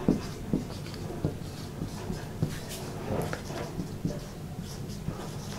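Chalk or marker writing on a board during a lecture, a run of short scratchy strokes and taps in an irregular rhythm, close and moderately loud with no talk.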